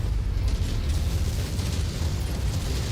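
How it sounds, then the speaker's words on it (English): Explosions from a MechWarrior 5 battle rumble as a dense, continuous wall of booming bursts, heavy and loud throughout with no clear gaps. "There's too many explosions for me to really tell."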